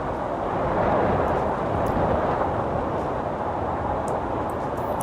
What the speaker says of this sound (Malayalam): വിൻഡിൻ്റെ ഒരു സൗണ്ട് എഫക്ട്സ് ഞാൻ ഡ്രാഗ് ചെയ്തിട്ടുണ്ട്.